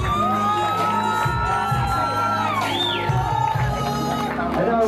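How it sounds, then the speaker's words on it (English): Wedding guests cheer and whoop for the bride and groom at the reception, a loud, dense crowd roar with scattered shouts and a rising whistle-like yell, continuing steadily throughout. "One more time, ladies and gentlemen, have a nice round of applause for our bride and groom"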